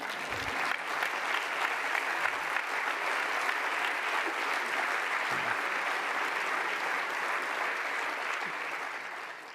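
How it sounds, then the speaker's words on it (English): Audience applauding at a global alumni reunion, a long, even round of clapping at moderate loudness that tapers slightly toward the end, a few low thumps underneath. "This actually deserves an applause."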